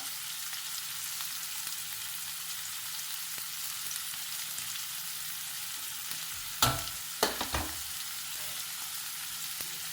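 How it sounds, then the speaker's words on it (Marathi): Green chilies frying in hot oil in a pan give a soft, steady sizzle, with a few louder spatters and stirring clatters near the end, no talking. "सो बरें एकान 1-2 मिनटां आमी फ्राय करून घेवया."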